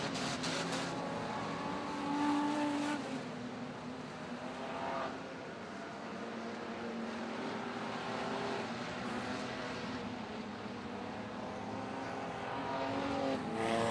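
Holden and Ford street stock race cars roar around Sydney Speedway in a night A-main, a constant distant wash of engines rising and falling as the pack circles.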